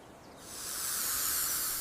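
A snake's hiss, a breathy airy sound swelling from quiet to a sustained loud hiss and holding steady, alone with no other sounds.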